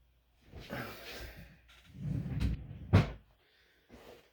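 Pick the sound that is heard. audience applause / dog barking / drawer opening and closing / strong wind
drawer opening and closing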